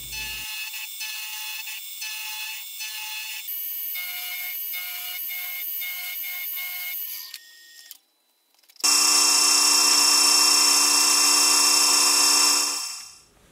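A milling machine cuts a 45 degree chamfer on a steel part for a two-piece milling vise. It gives a steady, loud, high-pitched whine, then briefly drops out. It returns as a louder, harsher cutting roar that holds and then fades out.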